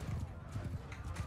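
Horse hooves in Mount and Blade 2, rhythmic low clip-clop thuds of a galloping horse, fairly faint, with a voice mixed in.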